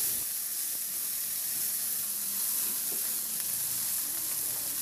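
Tomatoes fry quietly in a pan and get stirred, a faint steady sizzle and hiss with occasional soft scrapes, heard close and alone with no voices.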